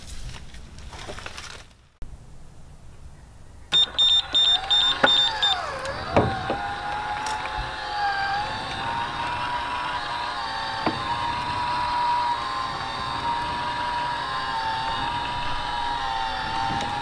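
A solar-powered gate opener motor drives gears to slide a gate open, starting with clicks and a brief beeping, then settling into a steady whirring hum with occasional clanks as the gate travels.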